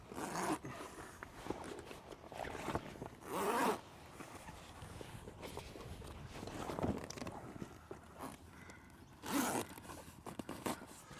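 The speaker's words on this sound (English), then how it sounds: "And zip it across." A zipper is drawn across a camper tent's canvas on an Austrack Plenty LT camper trailer in a series of scratchy, close pulls, with a few louder bursts as the slider moves along.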